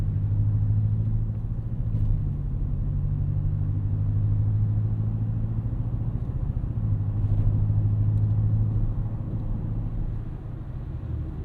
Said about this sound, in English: kind of a muscular noise for a four-cylinder